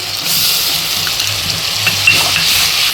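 A loud, even sizzle from onion, garlic and ginger paste frying in a pan for soya chaap, heard close up with brief stirring scrapes throughout and no talking.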